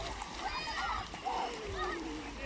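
Children running and splashing through shallow water, with steady splatter and sloshing throughout while excited voices cheer and chatter over it outdoors.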